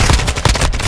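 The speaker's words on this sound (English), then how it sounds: "I literally spawned in gunfire!" Gunfire in the video game Modern Warfare 2, a short burst of rapid automatic shots, loud and close.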